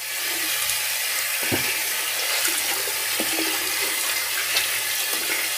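Water from a tap running steadily during a rinse after a shaving pass, a constant hiss with a few faint knocks and splashes underneath.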